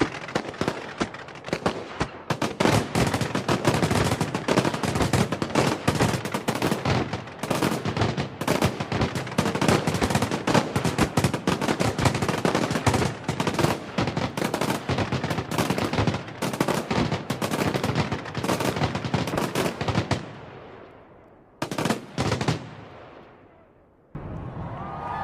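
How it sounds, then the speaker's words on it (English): Fireworks over London at New Year 2008 pop and bang in a dense, rapid barrage for about twenty seconds, then thin to a few scattered bursts, with crowd noise underneath. "You can literally smell the fireworks. You can certainly hear them."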